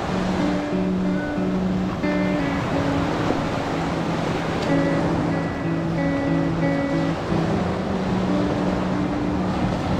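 Ocean waves wash continuously onto a beach on Phu Quoc island, a steady loud roar of surf with no voices over it.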